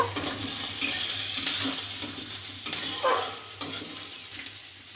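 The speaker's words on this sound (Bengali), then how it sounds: "পেঁয়াজটা একটু ভাজতে দেব।" Chopped onion dropped into hot oil in a kadai sizzles loudly, while a spatula scrapes and stirs against the pan in bursts. The frying is close and steady, and no one speaks.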